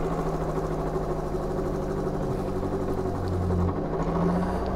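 An electric traction motor spins at high speed on a test bench, giving a steady close whine and hum with faint vibration and slight pitch shifts; no speech.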